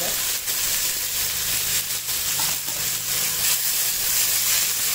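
A green chili, ginger and garlic paste sizzles steadily in a hot pan, a continuous bright hiss of frying with faint stirring, close and fairly loud, with no talking.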